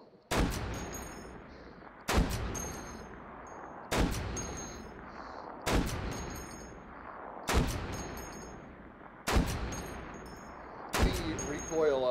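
Seven heavy, booming shots from an M82 Barrett rifle in H3VR, a VR shooting game, fired at a steady pace roughly every two seconds. Each blast is loud and sharp with a ringing metallic tail, and the gun is alone with no talking.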